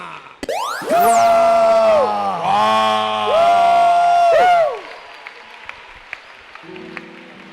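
A church congregation gathered for Sunday worship in a gymnasium erupts in loud cheering, with long rising and falling whoops and shouts held for several seconds before dying away into quieter scattered noise.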